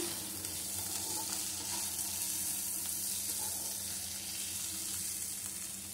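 Fried chicken, paneer and mushrooms are stirred together in a hot pan for Schezwan fried rice, giving a constant close sizzle with faint scraping of the spatula through the food, steady and alone.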